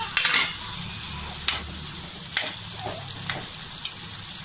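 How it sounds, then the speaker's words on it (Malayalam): A spoon stirs a lemon pickle mixture with garlic in sesame oil, giving faint, scattered scrapes and light clinks against the pan over a soft, steady background hiss. "നല്ലോണം ഇളക്കി കൊടുക്കാം. ഇനി അതോടുകൂടി വെളുത്തുള്ളിയും കൂടി ഇട്ട് കൊടുക്കാം."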